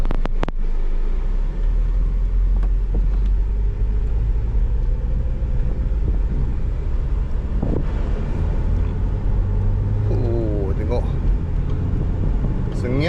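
A 1997 Honda Civic 1.6 EFI automatic's engine rumbles steadily on a test drive, with wind buffeting the microphone and occasional road knocks; a few brief voices come through.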